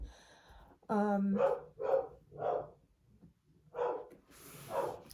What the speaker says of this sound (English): Sorry about the barking in the background, the dog's barking